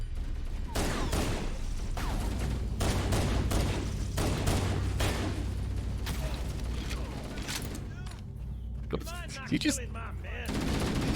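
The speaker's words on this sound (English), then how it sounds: "Look, I see gunfire and I shoot at it." Rapid gunfire in the Halo video game on a big open-world level, with dense bursts of automatic shots and a few single cracks, then mechanical clicks near the end, loud and constant under faint voices.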